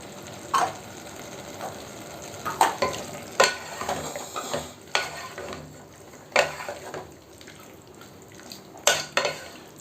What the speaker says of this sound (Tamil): இப்போ இது ஒரு நிமிஷம் நல்லா இந்த தக்காளி வதங்கட்டும்